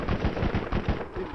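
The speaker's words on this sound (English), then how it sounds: "Turret deployed." A deployed automatic turret firing in the Borderlands video game, a close, steady burst of rapid machine-gun shots, no voices.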